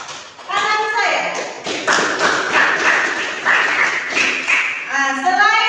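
A classroom of students claps for a group during a genetics lesson, a burst of quick overlapping hand claps lasting several seconds, with children's voices in between.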